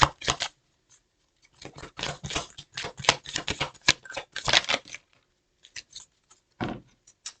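Tarot cards being shuffled and pulled, crisp papery riffles in short bursts with brief quiet gaps between them, close and alone without talk.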